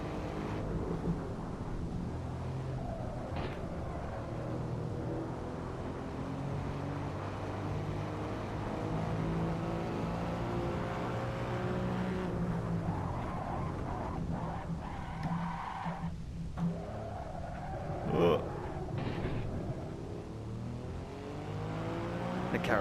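Race car engine in the Assetto Corsa racing game, with rear wheels locking up under braking: a steady engine drone with rising and falling pitch across gear changes, and tyre skidding mid-run, continuous and fairly loud with no talk.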